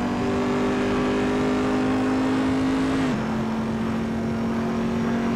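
Corvette C7R race car engine in the video game Assetto Corsa at speed through Curva Grande: a loud, steady high engine drone that drops in pitch abruptly with a gear change midway, then holds.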